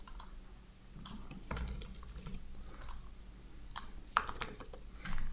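Rapid clicking of computer keys while an email and address are entered into a store inventory form, irregular bursts of keystrokes throughout, fairly close with faint room noise behind.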